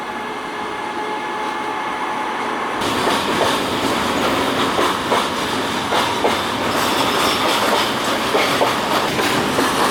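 A freight train loaded with scrap metal rolls past near a riverside walkway in Ruse, Bulgaria, starting with a sudden swell into a continuous loud rumble with rhythmic clickety-clack of wheels over rail joints.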